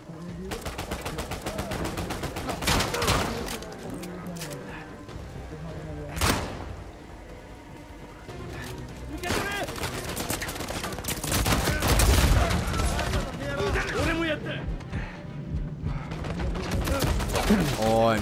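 Covering gunfire in the video game Uncharted: rapid, continuous bursts of shots and impacts, loud and busy throughout, mixed with game sounds while people talk over it.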